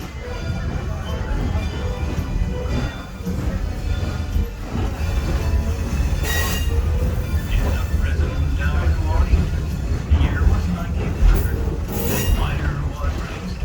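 A steam train in Summerland rolls along with a continuous heavy rumble, rattling cars and occasional high squeals from the wheels.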